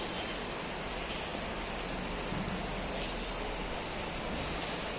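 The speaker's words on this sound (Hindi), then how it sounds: "देखिए बाहर बारिश हो रही है।" Heavy rain pours outside an office in Mehsana, Gujarat, as a dense, even hiss of falling water, with occasional louder drips and splashes close by.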